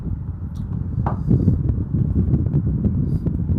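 Electric fan blowing straight into a microphone, a loud low rumbling buffet of wind noise that flutters steadily throughout with a faint bump or two.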